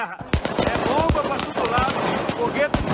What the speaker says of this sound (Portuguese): A polícia reforçou a tropa, usou bombas de efeito moral